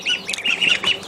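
Pekin and black Cayuga ducks give a quick run of squawking, nasal calls, several overlapping bursts close by over about a second.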